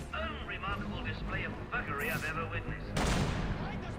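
Gunfire in Batman: Arkham Origins during a Deathstroke challenge plays under someone talking: a couple of sharp shots, then a broader burst of fire near the end, while his voice continues over the game ambience.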